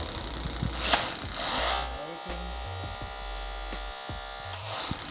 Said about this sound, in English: We have our hydraulic jaws and our electronic combi tool.